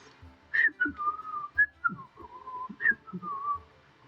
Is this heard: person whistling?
yes